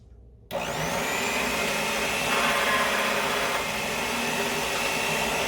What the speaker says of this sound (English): now I'm going to roll it in my pasta machine a couple times